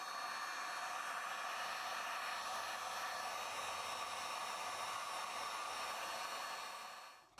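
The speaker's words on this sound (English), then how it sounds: "And then I'm going to heat it up with a heat gun." A heat gun blows steadily on red protective film over a carbon side mirror, giving a loud, even airy roar that holds for several seconds before cutting off abruptly at the end.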